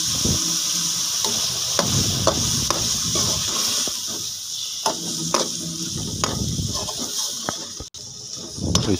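Spices being stirred into a chicken macaroni mixture in a hot pan, a steady sizzle under repeated scraping strokes of a spoon, close and fairly loud.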